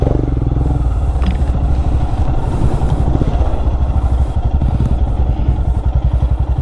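A Yamaha R15 motorcycle climbs an off-road forest track, its engine running steadily and loud throughout with a rough, pulsing rumble and some clatter, heard close with no talk.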